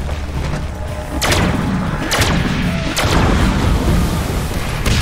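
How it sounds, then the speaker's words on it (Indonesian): Three heavy booming explosions from the Deadpool video game, spaced about a second apart, loud and close over a constant rumbling background. "Nah, meledak ya."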